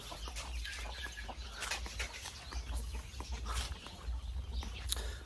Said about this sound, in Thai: มาเร็ว มาเร็ว เรียกไก่นะครับ บ้านผมเรียกไก่กุ๊กกุ๊กกุ๊กกุ๊กกุ๊ก